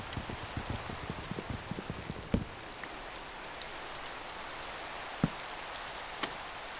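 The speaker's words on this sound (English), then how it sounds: "I'm seeing the rain just disappear into the void." Rainfall in the Minecraft video game makes a steady, even hiss, broken by a few sharper drop-like taps, with no voices.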